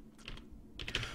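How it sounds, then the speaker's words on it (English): Quick, soft keystrokes on a computer keyboard, two short bursts of typing entering budget figures in QuickBooks, close and quiet with no voices. "Type in the budgeted amount and push the tab key to save the field."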